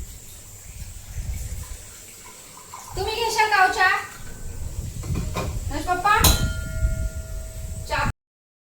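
Water poured from a vessel onto rice that was fried in ghee for kheer, set to soak in a home kitchen; a steady splashing pour with clinks of utensils, and a voice speaks partway through.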